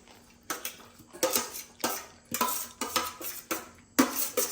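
A utensil mixes two ingredients in a bowl with irregular bursts of scraping and clinking, close and moderately loud, with short pauses between strokes.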